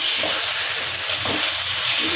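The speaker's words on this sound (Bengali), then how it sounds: "ভাজা হচ্ছে।" Boiled taro frying in a pan with cumin powder, a loud, steady sizzle and hiss with soft stirring scrapes throughout.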